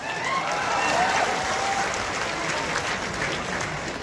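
An audience at a government appointment-letter ceremony applauds loudly and continuously, a dense wash of clapping from a large crowd, with a few voices and cheers mixed in.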